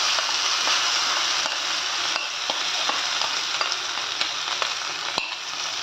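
Ground masala paste with asafoetida, red chillies and turmeric fries in hot oil for Kolhapur-style batata vada, giving a steady close sizzle with regular light clicks from a spoon stirring the pan.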